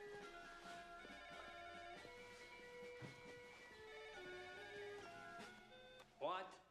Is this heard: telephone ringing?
yes